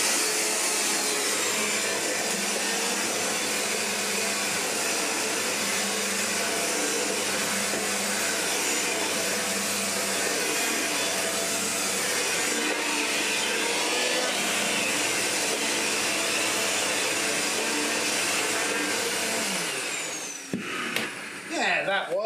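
A premium vacuum cleaner runs loudly and steadily at close range with a broad, constant whine, then abruptly cuts off near the end.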